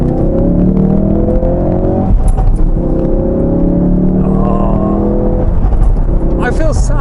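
A petrol car engine revs up and down, a loud, close, droning roar whose pitch climbs and drops over several seconds, with a couple of brief higher bursts.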